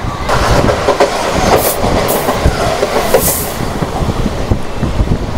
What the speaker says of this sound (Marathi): ही आहे मुंबईची लाईफलाईन म्हणजेच लोकल ट्रेन